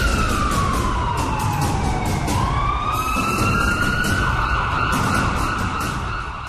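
A loud wailing air raid siren rises and falls slowly at night in Jerusalem during a missile attack, sustained and continuous, with a second siren tone layered faintly above it.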